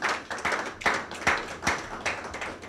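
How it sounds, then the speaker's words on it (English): Clapping at the inauguration of a pension commission board, a handful of distinct, uneven hand claps in loose bursts rather than a full crowd roar, fairly close and moderately quiet with brief gaps between groups of claps. "Give me a round of applause."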